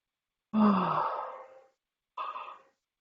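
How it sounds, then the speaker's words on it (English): A long, drawn-out yawn exhaled close by, trailing off, followed by a shorter breathy sigh after a pause. "here's the yawn"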